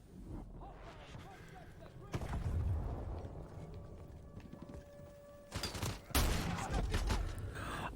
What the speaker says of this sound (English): That was a shotgun blast at close range.